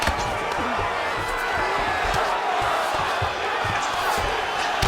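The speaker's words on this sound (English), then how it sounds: "big pop from the crowd as they get back to their feet" Arena crowd in the UFC 5 fighting video game, during a Khabib Nurmagomedov vs Aljamain Sterling bout, roars in a loud, continuous wash of cheering, with dull thuds of strikes mixed underneath.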